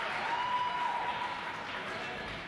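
A crowd applauds and cheers at a ninja obstacle course competition finals, a dense, steady wash of clapping with a few cheers on top, under a commentator's talking.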